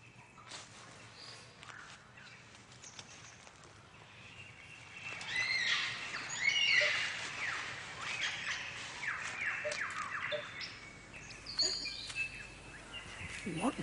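A superb lyrebird of southern Australia sings outdoors, a varied run of mimicked calls and environmental sounds, with bright, shifting notes and whistles that grow louder in the middle and continue over a steady background hiss.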